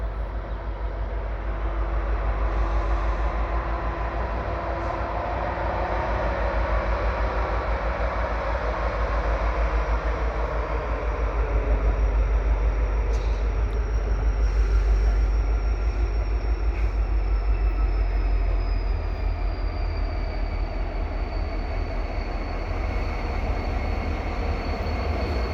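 Two back-to-back SD70M-2 locomotives haul a mixed freight train under a ramp, a long continuous rumble of wheels and cars rolling past with rhythmic clatter and a faint high squeal, steady and fairly close throughout.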